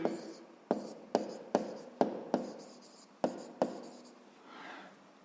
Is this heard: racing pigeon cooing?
no